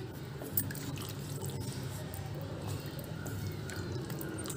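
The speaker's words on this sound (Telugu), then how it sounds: "ఇప్పుడు ఒక గ్లాసు నీళ్ళు వేస్తున్నామండి" A glass of water is poured into simmering gongura chicken curry, producing a soft, continuous liquid wash and drips over a low background rumble, quiet and with no voices.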